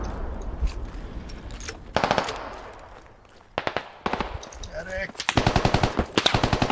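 Machine gun fire from the tactical shooter Squad, Russian Army on the Yehorivka map, rattles in several rapid bursts of sharp, loud shots separated by short pauses, with some gunfire farther off.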